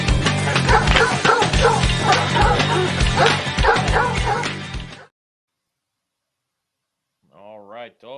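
A jingle for a radio show's dog of the week segment, with loud yapping and barking dogs over music for about five seconds, then a pause and a voice starting to talk.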